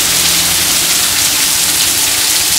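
Heavy rain falls steadily and loudly during volcanic ash fall from the 2014 Kelud eruption in Yogyakarta, a dense unbroken hiss of drops hitting surfaces close by with no voices.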